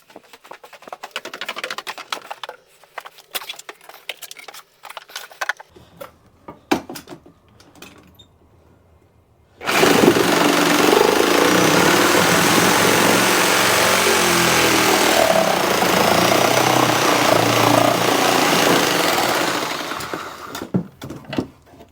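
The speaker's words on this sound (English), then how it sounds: "let's go back down on the Sawzall and just cut that straight" A Sawzall reciprocating saw cuts a pipe straight during toilet flange repair. Scattered handling clicks and knocks lead into a loud, steady buzzing cut lasting about ten seconds, which then stops and gives way to more handling noise.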